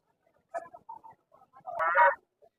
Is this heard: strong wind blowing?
no